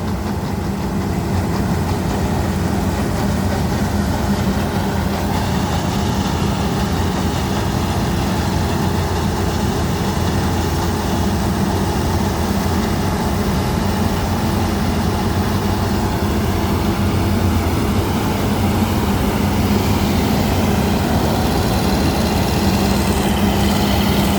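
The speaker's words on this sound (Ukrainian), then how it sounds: "комбайн проходить і провалює" A combine harvester's engine drones steadily and loudly through the whole stretch, a constant low mechanical roar with no pauses, during wheat harvest in the field.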